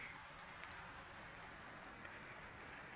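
Rain falling steadily at a Mahadev temple during the monsoon, a faint, even patter of drops on surfaces with one sharp tick, no voices present.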